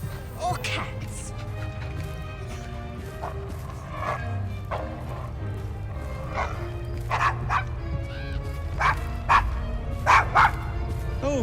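A dog named Desmond barks in a street scene in Assassin's Creed Syndicate, the sharp yaps coming in bursts, louder toward the end, over a steady low game background while people talk.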